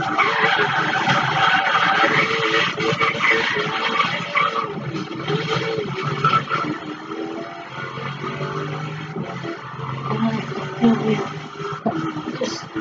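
A car skidding and struggling for grip, sustained tire squeal and engine roar over nearly thirteen seconds, loud and continuous with shifting pitch.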